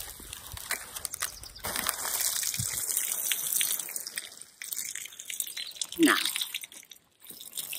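A watering can pours a steady gushing stream of water onto garden plants in a vegetable plot, splashing close by for several seconds with a brief break before a final surge.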